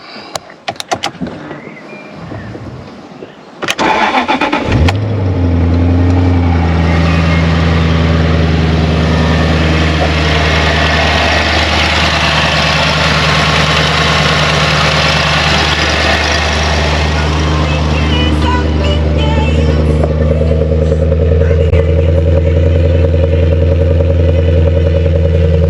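A supercharged 4.2 Jaguar S-Type R, abandoned and run without cooling water, cranks and catches after a few seconds of clicks, then settles into a loud, steady idle with a deep hum and faint clatter.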